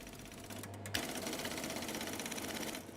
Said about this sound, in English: That was how the printer sounded when it printed out all 120 characters at once.